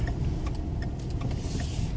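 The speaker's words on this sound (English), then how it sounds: "I drive right on down the street" Car rolling down a street, a steady loud rumble of engine and road noise heard from inside, with a few faint clicks and a rising hiss near the end, no talking.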